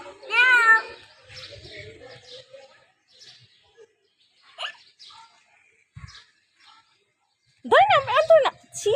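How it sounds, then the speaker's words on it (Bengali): A cat meows twice, once at the start and again near the end, with a child and adult chatting quietly in between. "ওইখানেও আরেকটা ম্যাও আছে"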